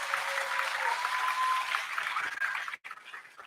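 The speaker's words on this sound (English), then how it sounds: "Let's give all those people a big round of applause." An audience at a school orchestral performance gives a big round of applause, dense and continuous at moderate distance with a faint sustained tone beneath, dropping away briefly near the end.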